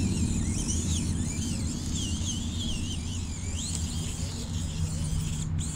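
A small FTX 1/18-scale RC crawler clambers over objects, its motor giving a steady wavering whine over a constant low rumble of nearby main-road traffic.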